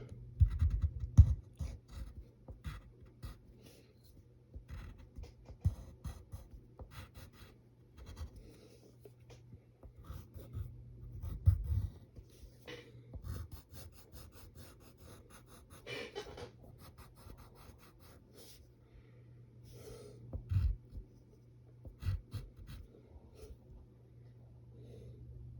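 Pencil sketching a cartoon figure on paper, with steady scratchy strokes and short scribbles recurring throughout, close and fairly quiet over a low background hum.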